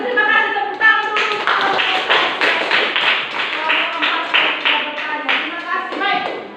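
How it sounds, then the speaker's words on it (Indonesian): Students in a classroom clap together in a loose, uneven rhythm, sharp close-up hand claps repeating over several seconds with light voices mixed in. "Oke, baik, kalau bisa terima kasih, tepuk tangan dulu."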